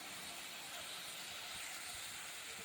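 Onion, garlic and turmeric powder sizzling steadily in hot oil in a pan, a loud, continuous broadband hiss with no talking.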